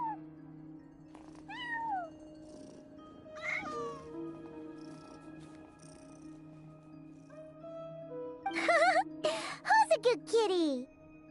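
A cat meows several times in a video game, scattered cries that grow louder and more insistent toward the end, alongside steady background music and a brief talking voice.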